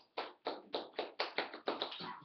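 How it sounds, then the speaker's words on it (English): Claps ring out at a class debate, about eight sharp, evenly spaced hand strikes, faint and fairly close, with no voices over them. "Give yourself a round of applause"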